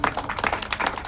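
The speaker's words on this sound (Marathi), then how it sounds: "त्यांच्यासाठी जोरदार टाळ्या झाल्या पाहिजे सर्वांनी" A crowd claps hard for a singer at a Jagran Gondhal devotional performance in Renapur, a brief dense burst of applause.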